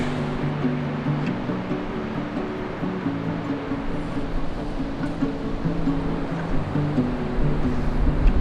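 Ocean surf washes onto a Costa Rica beach at dawn around five in the morning, a continuous broadband roar of waves with gentle swells, steady and moderately loud, while a faint low tonal hum runs underneath.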